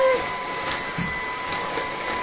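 An Ultenic vacuum cleaner runs at a steady, fairly quiet whir, a smooth continuous hum with faint whining tones and no pauses.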